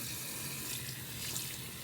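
Tap water gushes steadily into a sink or basin while a dog is being washed, a continuous close, loud hiss filling the whole moment with no talking.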